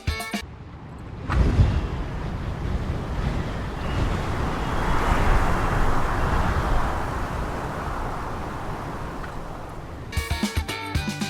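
Strong wind blowing along a pavement, a loud sustained broadband roar with gusting swells that build and ease, bracketed by brief microphone buffeting at the start and end.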